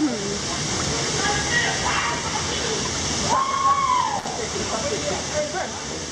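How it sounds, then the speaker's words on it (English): Lavena Falls on Taveuni, a roughly 16-meter waterfall dropping into a rocky rotunda at the end of a narrow passage, roars as a loud constant rush, with a few faint higher whistles or calls drifting over it. "Lavena Falls consists of a waterfall approximately 16 meters high, located in a rotunda along a narrow passageway."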